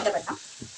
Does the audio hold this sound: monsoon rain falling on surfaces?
no